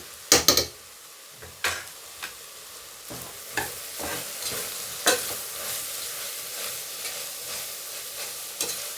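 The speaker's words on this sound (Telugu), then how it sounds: "అల్లం వెల్లుల్లి పేస్ట్ కొంచెం పచ్చివాసన పోయేదాకా తిప్పుదాము, ఒక 2 మినిట్స్." Ginger garlic paste and garam masala stirred in a pan for a meal maker biryani, with sharp metal scrapes and taps of the spoon over a faint sizzle, close and intermittent, no speech.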